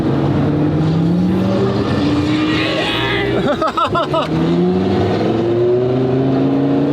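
A vehicle engine labours up a steep, washed-out hill climb in second gear, revving hard with a steady, slowly rising pitch. A brief voice cuts in midway.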